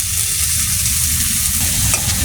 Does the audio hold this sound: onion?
yes